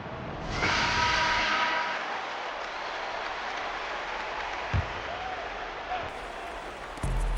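In an NBA 2K18 Pistons vs Thunder basketball game, an arena crowd roars loudly at first and then settles into a steady, washing murmur of cheering.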